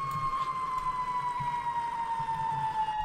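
A fire engine siren wails steadily in the EmergeNYC game as the truck responds as second-due engine to an FDNY building fire, a sustained tone sliding slowly downward over a low rumbling engine throughout.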